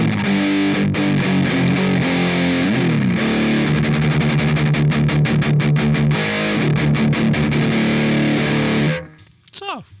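Electric guitar played through a Caline CP-18 Orange Burst overdrive pedal at full gain, a thick, heavily distorted tone strummed and sustained for about nine seconds before cutting off, with only faint rustle after.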